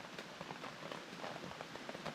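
Rain falling steadily on a solo bivvy camp in wet woodland, a dense, even patter of drops on the shelter and surroundings, continuous and close with no voices.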